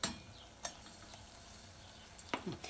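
Sugar donut batter drops into hot oil and fries with a quiet, steady sizzle, marked by a soft splash at the start and a few more light plops and clicks near the end.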